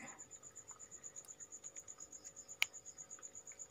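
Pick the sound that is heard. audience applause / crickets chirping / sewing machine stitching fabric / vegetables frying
crickets chirping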